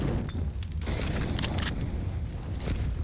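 A molotov and a grenade exploding in a Counter-Strike match on the Mirage map: a deep, rumbling boom with crackling bursts, fairly loud and close, over a low continuous roar.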